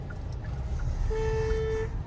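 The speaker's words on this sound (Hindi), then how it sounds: "लॉन्ग हॉर्न प्रेस करो" A car horn blares in one steady, sustained press lasting under a second, nearby, above the low rumble of an idling vehicle in a narrow lane.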